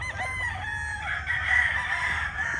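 A Bruce Barnett sweater gamefowl rooster crows loudly and close, one long drawn-out call over a low background rumble.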